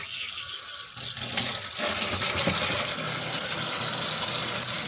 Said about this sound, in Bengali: মাছগুলো পরিষ্কার করে ধুয়ে নিচ্ছি